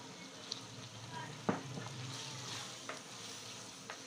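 Steady, gentle sizzling of tomatoes added to frying chicken in a pan for chicken korma, with a few soft clinks and stirring sounds scattered through.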